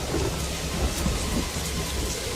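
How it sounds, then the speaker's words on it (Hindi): Torrential rain in a strong storm, a dense hiss of downpour with low thunder rumbling beneath it, steady and close with no speech. "मूसलाधार बारिश और तेज आंधी।"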